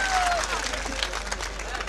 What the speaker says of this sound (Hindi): एक बार जरा झूम के तालियां बजाइए